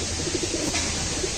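A fulsira pigeon coos in a loft, a short run of low, soft pulsing calls close by with no talk.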